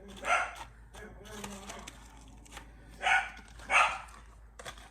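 A pet dog barks indoors, a few sharp barks spaced a couple of seconds apart, with one early bark and a close pair near the end, fairly faint against a quiet room.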